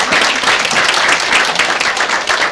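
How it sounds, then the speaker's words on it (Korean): An audience at a school admissions information session welcomes a lecturer with applause, loud and dense with many hands clapping together in a steady wash that fills the short clip. "강사를 박수로 맞아주시면 감사하겠습니다."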